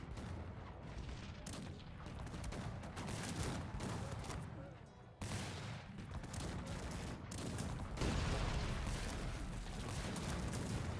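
Cannons fire on hussars in a Cossacks 3 battle, a dense, continuous barrage of booms and gunfire that stays loud throughout with no pauses.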